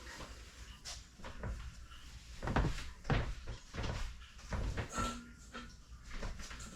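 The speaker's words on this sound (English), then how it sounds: "Let me open a trash can." A trash can lid is handled in a kitchen with clunky plastic knocks and scrapes, followed by a few irregular bumps and rattles, nearby and moderately loud, with no talking.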